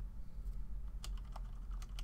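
Clicky typing on a computer keyboard fitted with O-rings, a quick scatter of keystrokes over a steady low hum from gaming in the background, fairly close and moderately loud.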